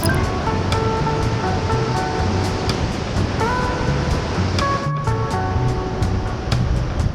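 Steady ocean surf washes continuously onto a beach at Itacaré, Bahia, a broad roaring wash with faint tonal sounds from nearby riding on top and no speech.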